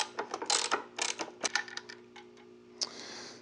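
Ratchet clicks in quick bursts while loosening the starter bolts on a Harley-Davidson Dyna motorcycle, close and fairly crisp with brief pauses between strokes.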